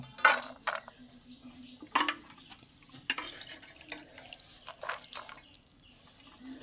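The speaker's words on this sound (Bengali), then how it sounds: "পান্তাগুলো আমি সব ছেঁকে নেব" Soaked leftover rice (panta bhat) being strained of its water in a pot: scattered clinks of utensil against metal, with soft drips and splashes between them, close by and fairly quiet.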